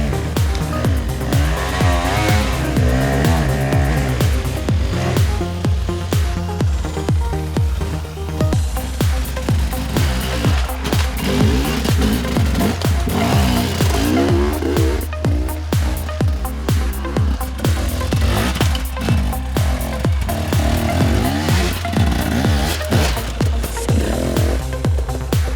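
Two-stroke enduro motorcycles attack a technical hill climb at the 2018 Timberland Extreme Enduro in South Africa, their engines revving and bogging loudly and continuously, with throttle bursts rising and falling close by.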